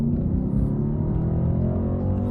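A Mercedes-AMG C63 S engine roars under hard acceleration, a dense, loud, continuous low rumble heard close for a couple of seconds.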